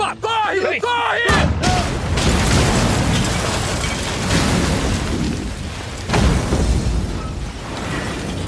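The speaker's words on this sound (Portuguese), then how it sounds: "É uma bomba! Corre!" A bomb goes off in a dubbed action film, one huge boom that swells into a long, dense roar of debris and rumble. A few short shouted words come just before the blast.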